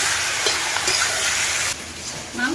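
Meat frying in hot oil in a wok, a loud steady sizzle and hiss that drops slightly in level partway through, close up and with no talking.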